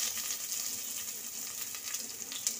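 Cinnamon sticks, cardamom, cloves, bay leaf and onion frying in a couple of spoons of oil give a steady, faint, even sizzle, continuous and free of talk.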